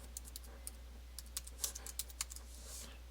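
Quiet clicking keystrokes on a computer keyboard come in irregular bursts while fields are tabbed through, close by and faint over a low steady hum.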